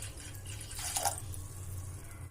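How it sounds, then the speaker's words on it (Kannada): Water and sour buttermilk poured into a cooking pot while making masala ganji: a short splashing gush about midway through, set against a steady low hum and quiet room noise. "ಒಂದು ಆಟಗ ಮಜ್ಜಿಗೆ ಒಂದು ವಾಟಗ ನೀರು ಹಾಕ್ಲಿಕ್ಕತ್ತೀನಿ"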